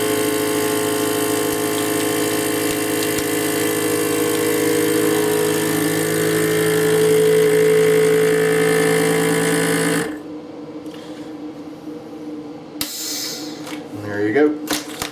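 A Weston Pro-2300 vacuum sealer pumps air from bags of pork chops with a loud, steady motor hum for about ten seconds, then cuts off, leaving quiet handling noises and rustling.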